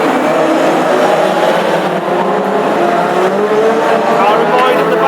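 Classic hot rod race cars roar off the start of a stadium oval heat at Northampton, a loud, dense, continuous engine drone with shifting pitch and faint tire noise, while an announcer talks over it throughout.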